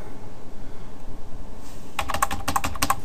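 A computer keyboard is used to type a password at a Linux sudo prompt: about a dozen quick, crisp keystrokes in an uneven burst follow a stretch of low room hum.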